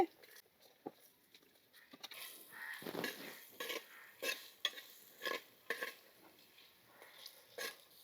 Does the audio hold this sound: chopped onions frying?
yes